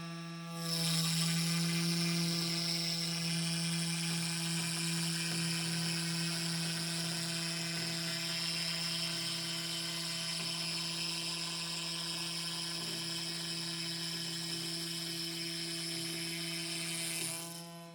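A Makera Carvera Air CNC machine cuts the perimeter of 4 mm plexiglass, a steady high whine with a constant low hum that runs loud and unbroken from start to finish.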